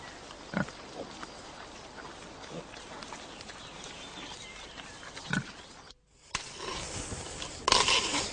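Pigs rooting and digging through the soil of an orchard on an Austrian permaculture farm, with steady scuffling and sporadic close grunts, then a brief pause before a louder burst of noisy activity near the end.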